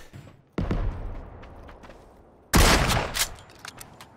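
Gunfire from a weapon in PUBG, with two separate loud bursts, the first lingering briefly and the second sharper, each followed by echoing decay and a few fainter follow-up shots.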